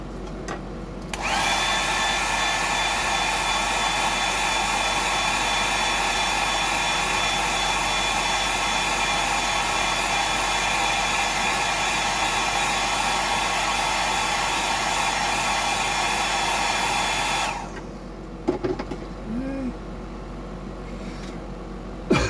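A handheld hair dryer dries a freshly painted freshwater fishing lure. Its loud, steady whir switches on sharply, runs for about sixteen seconds and cuts off, followed by quiet handling noises.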